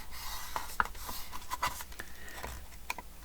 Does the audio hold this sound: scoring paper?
yes